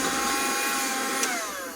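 A Black and Decker Dustbuster handheld vacuum runs continuously with a loud, steady high-pitched whine and rushing air, close up, with no pauses.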